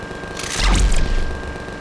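A turret in the Reforged Eden game fires a single heavy booming blast, loud and close, with a sweeping descending whoosh and a short rumbling tail before fading to quiet background hum.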